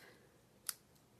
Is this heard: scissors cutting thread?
yes